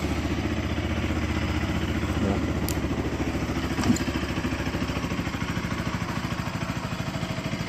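Motorcycle engine idling steadily before a large group ride, a continuous low rumble with an even rhythmic pulse, close and moderately loud, with a faint clatter or two and no talk.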